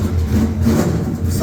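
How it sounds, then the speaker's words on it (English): A Racing Monte Carlo car pulls out at a European car show, its engine rumbling low and steady close by for the whole moment, with crowd chatter blended underneath. "If you're disturbed by the car that's pulling out, it's that Racing Monte Carlo right there"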